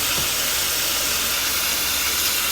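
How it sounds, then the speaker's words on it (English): Brake cleaner hisses from an aerosol can onto a grease-covered part of an Escort Cosworth, a steady broadband spray that runs unbroken and close for the whole stretch. "Let's try some brake cleaner on this,"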